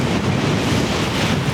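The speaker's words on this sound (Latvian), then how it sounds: "Baigais tāds vējš neforši." Strong outdoor wind roars steadily into the microphone, a loud, unbroken buffeting rumble with no voices.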